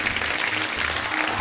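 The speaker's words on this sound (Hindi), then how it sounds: "हमारे सिंह साहिबान के लिए जोरदार तालियां।" Steady, dense applause from a crowd, continuous clapping throughout with no voices standing out.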